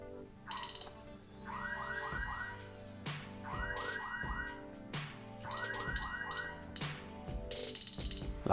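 A DSC Power Series alarm keypad sounds a fire alert: loud electronic tones rising in rapid warbling sweeps, repeating in cycles with sharp beeps between them, close and insistent with no talking.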